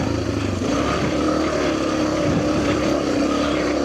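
A Suzuki DRZ250 dirt bike runs steadily in what may be third gear along the Kelly Loop trail, its engine a loud, continuous rough drone close to the rider, with no voices over it.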